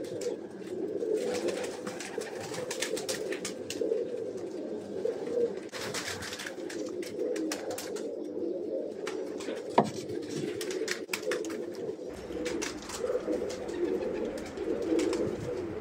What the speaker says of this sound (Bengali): এই হচ্ছে জনসিরা, আনিতওয়ালা জনসিরা, খুব ভালো পারফরমেন্স এবং খুব ভালো ফ্লাই করে কবুতরগুলো,